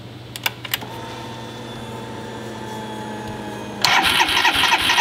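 A HISUN 250cc UTV engine cranks over with a steady mechanical drone and faint clicks, then at the end a loud, harsh burst of noise breaks in.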